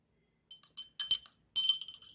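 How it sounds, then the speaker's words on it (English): A spoon clinks against a glass while stirring starch powder into water, giving a few light, bright taps followed by a quicker flurry of clinks, close and fairly quiet. "I am going to add some starch powder into it. I am stirring it."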